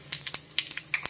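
Mustard seeds and cumin crackle and pop in hot oil for rasam, a quick run of sharp, irregular snaps and spits close up, fairly soft overall.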